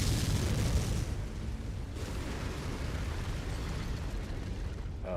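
Missile explosions in the MechWarrior 5: Mercenaries video game, heard as a dense, continuous rumble of booms and blasts that starts heavy and stays loud and rolling throughout, with no talk.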